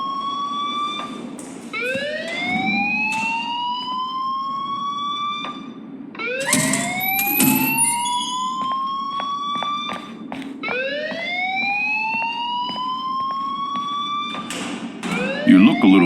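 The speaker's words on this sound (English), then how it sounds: "please turn off that alarm since that's your job" An electronic fire alarm in the video game Life Is Strange wails in repeated rising sweeps, about one every few seconds, steady and fairly loud, with voices talking underneath.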